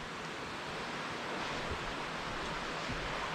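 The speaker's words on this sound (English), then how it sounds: "There's the outflow from the generating station." Water outflow from a generating station beside Bridal Veil Falls at Kagawong rushes in a steady, broadband roar, continuous and even with no breaks.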